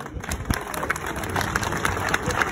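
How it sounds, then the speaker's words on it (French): Carnival crowd in Steenvoorde applauding the giant Rosalie II, a dense steady patter of many hands clapping outdoors, with a few louder nearby claps over a busy background. "Mesdames, messieurs, je vous demande d'applaudir Rosalie II."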